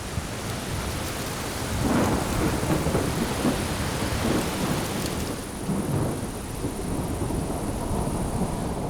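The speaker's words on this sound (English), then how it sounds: "A typical summer thunderstorm is brewing." A summer thunderstorm with steady rain pattering on surfaces and low thunder rolling and rumbling several times in the distance, continuous and enveloping, with no voices.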